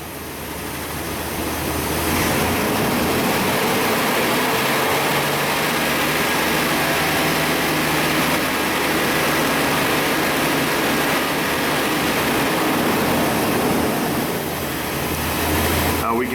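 A car engine rises in revs as throttle is given during vacuum-leak and oxygen-sensor diagnosis, a steady broadband roar that swells early and then holds loud and close for the rest of the stretch.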